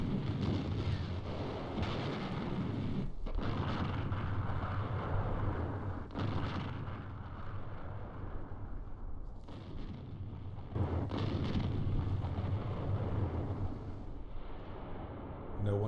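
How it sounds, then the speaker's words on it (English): Heavy artillery bombardment on the besieged city of Leningrad rumbles on continuously, with deep booming blasts swelling again and again over a constant low roar, like a sound effect. "sent in even heavier artillery"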